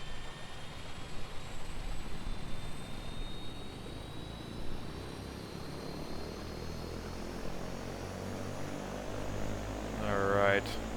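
An OV-10 Bronco turboprop in a flight simulator spools up at engine start, a steady broad propeller-and-turbine roar holding for about eleven seconds, swelling slightly near the end as a voice speaks over it.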